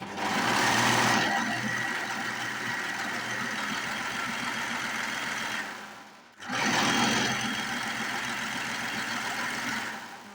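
An overlocker serger runs on fabric in a sewing room: a continuous loud mechanical whir for about six seconds, a brief stop, then another long run of stitching.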